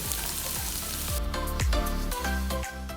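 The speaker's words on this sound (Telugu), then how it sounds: "సో అల్లం వెల్లుల్లి బాగా వేగిపోయింది." Ginger and garlic fry in hot oil in a kadai while a Punjabi chicken patiala is cooked, giving a steady, close sizzle that swells slightly partway through, with no talking.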